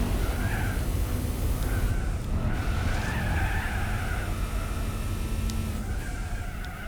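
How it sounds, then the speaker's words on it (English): Car tires squealing and skidding as a front-wheel-drive car drifts in Gran Turismo 4, a continuous loud screech over rumbling engine noise, lasting throughout without talk. "You can kind of get the back end out and it kind of drifts a bit."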